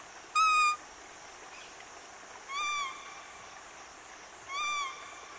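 A man in a tiger reserve in Arunachal Pradesh imitates bird calls to draw in wild animals, giving three short whistled hoots spaced about two seconds apart over a quiet night background.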